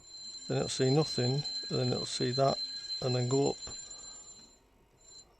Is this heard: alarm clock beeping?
yes